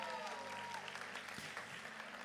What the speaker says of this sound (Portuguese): Dá uma salva de palmas para essa galera aqui.